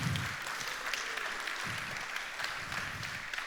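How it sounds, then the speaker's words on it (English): Quiet, distant applause from a conference audience at a security talk, a steady soft patter of clapping throughout with no voices over it. "Round of applause, come on"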